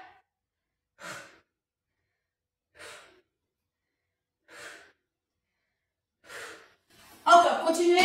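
Heavy breathing during a women's toning workout: five separate, evenly spaced forceful exhales roughly every two seconds, close and clear in near silence, before a voice starts talking.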